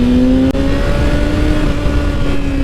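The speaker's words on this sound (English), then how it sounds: "Give a little rev bomb at the end over here" Kawasaki ZX6R motorcycle engine held at a loud, steady high rev close by, a sustained whine with a brief dip partway through.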